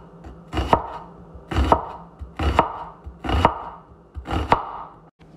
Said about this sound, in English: Cut your onion root to stem and slice thin as possible.